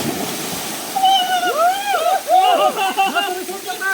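Bodies splashing into a resort swimming pool, with a burst of water splashing and sloshing close by while excited voices shout and cheer over it.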